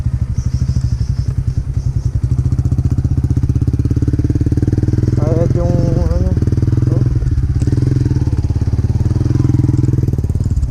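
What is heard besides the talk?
motorcycle engine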